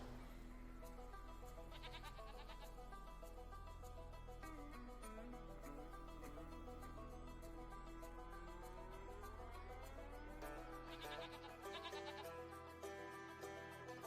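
Repeated goat bleats sound in short bursts over a steady low hum and background game music.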